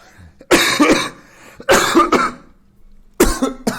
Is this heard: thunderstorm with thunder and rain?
no